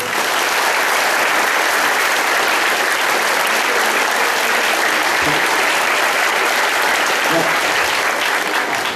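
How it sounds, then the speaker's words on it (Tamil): A group of volunteers claps enthusiastically at a De Mazenod Day gathering, a loud, dense, continuous burst of applause lasting several seconds. "இந்த குழு நல்ல உற்சாகமா கைதட்டு."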